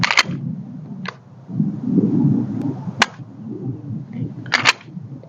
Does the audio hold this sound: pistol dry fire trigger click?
yes